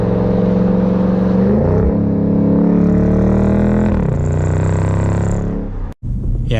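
A 2018 Dodge SRT Durango SUV cruising in regular traffic, its engine droning steadily and loud with rising and falling pitch as it shifts and accelerates, ending in a brief dropout near the end.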